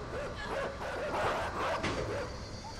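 Dogs in the video game Inside bark and yip repeatedly over a dense, steady game soundscape, the calls coming in quick overlapping bursts throughout.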